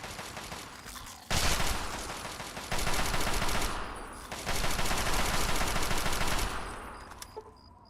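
Rapid automatic gunfire from a high rate-of-fire weapon in the video game Fallout 3, loud sustained bursts of dense shots with short pauses between them and no voices.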